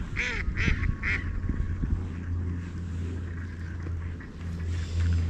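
Ducks on a river give a few quacks early on, then fade under a low steady rumble like a boat motor and wind outdoors.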